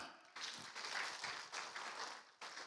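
A church congregation claps hands together during a worship service, bursts of rapid clapping rising and dipping over a few seconds, fairly faint and roomy.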